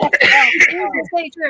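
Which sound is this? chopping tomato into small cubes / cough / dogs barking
cough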